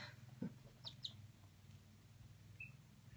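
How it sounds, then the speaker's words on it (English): Small young chicks out in a backyard playground pen, a few faint high peeps over a low steady outdoor hum, with no one speaking. "these are my little chicks"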